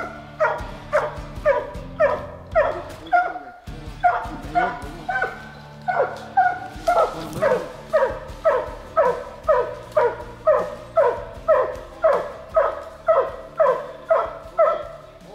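Hunting hounds bay at a bear in rapid, rhythmic barks, dozens of loud close yelps in steady succession, with a brief break and a burst of commotion partway through, while people speak now and then.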